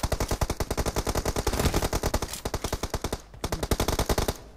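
Rapid automatic gunfire in the mobile shooter PUBG Mobile: long bursts of evenly spaced, loud sharp shots, a brief pause, then another burst, with no talk over them.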